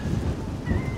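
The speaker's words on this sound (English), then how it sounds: "Wind's blowing." Wind gusts across a hilltop overlooking Bressay Sound near Lerwick, Shetland, a brief, low, buffeting rumble against the microphone.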